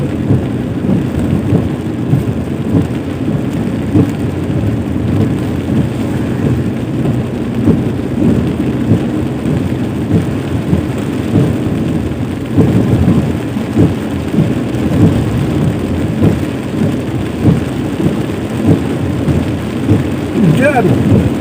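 Steady heavy rain pours down continuously while low thunder rumbles roll through, a dense, loud storm wash with no break.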